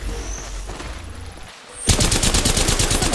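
Rapid automatic gunfire in the video game Apex Legends, a dense, loud burst of evenly spaced shots starting abruptly after a quieter stretch of game ambience.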